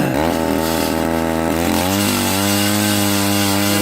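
Gas-powered ice auger roaring loudly and continuously as it drills a hole through thick ice on a frozen Colorado lake in zero-degree cold, engine pitch dropping as it bites in.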